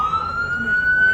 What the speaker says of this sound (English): We're letting the ambulance through.